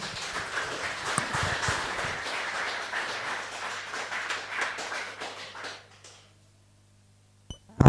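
A church congregation claps loudly and steadily for several seconds during a Spanish-language worship service. The dense clapping fades into near silence before a brief sharp sound at the very end.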